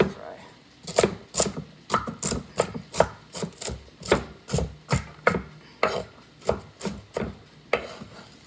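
Knife cutting vegetables on a board for a chicken stir fry, a steady run of sharp, evenly spaced chops, roughly two per second, close and crisp, with faint speech in the background.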